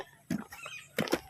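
A few short clucking calls from a chicken, close by, come in two brief bursts separated by quieter moments.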